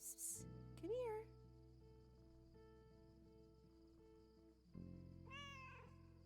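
A cat meows twice near a lake, a rising-falling call early and a longer one near the end, both close and clear over a faint steady background.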